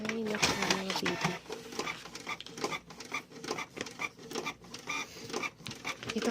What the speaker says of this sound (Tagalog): Nasisira ang printer natin, eh.